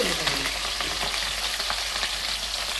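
Sliced onions and green chilies fry in hot oil in a pan, giving a loud, even sizzle with light crackling and occasional stirring scrapes, close up and with no voices.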